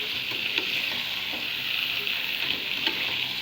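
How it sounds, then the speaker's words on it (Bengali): Chicken and potatoes sautéed in spices in a pan, sizzling steadily at close range with soft, intermittent stirring scrapes throughout. "সুন্দর করে মুরগির মাংসটা কষাচ্ছি।"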